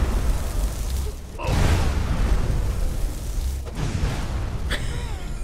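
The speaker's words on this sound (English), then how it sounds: "so many explosions." Several booming explosions burst out in quick succession amid constant game noise in Skyrim, each a sharp crack followed by a rumbling roar.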